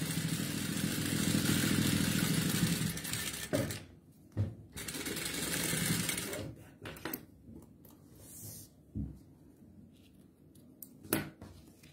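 A sewing machine stitching a seam along the edge of a fabric travel jewellery case: a steady, dense mechanical whir for about four seconds, then short bursts and clicks with pauses between them.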